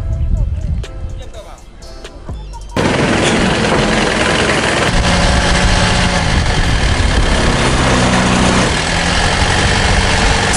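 A tour boat's engine starts up on a trip to Cambodia's floating villages and markets, then runs loud and close with a steady heavy drone. People talk nearby before it kicks in.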